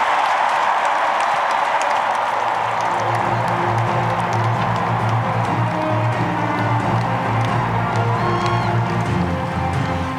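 Audience applause and cheering fill a hall at the World Peace Summit's 5th anniversary ceremony, a steady dense wash of clapping throughout, with a low musical tone joining partway under the crowd.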